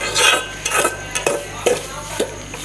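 A metal spoon stirs semolina roasting in ghee in a pot. It gives a series of distinct scraping and clinking strokes at an uneven rhythm, close and fairly loud, over a faint background sizzle.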